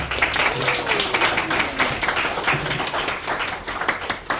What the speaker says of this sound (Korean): 박수로 맞이하도록 하겠습니다.